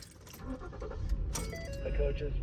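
Keys jangle before the engine of an abandoned sheriff SUV with a weak battery cranks and catches. Its low rumble swells into a steady idle while a voice talks over it.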